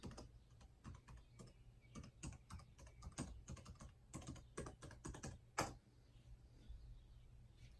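Password being typed on the keyboard of an Alienware Area 51m laptop: a run of quick, irregular key clicks, fairly close and soft, with a sharper single press near the end and no talking.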